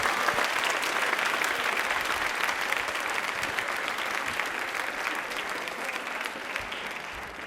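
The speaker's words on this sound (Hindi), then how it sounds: "तालियां एक बार जोरदार बजा दीजिए प्लीज।" A studio audience on a Rajasthan TV quiz show breaks into steady, loud applause that holds evenly for several seconds, with no talk over the clapping.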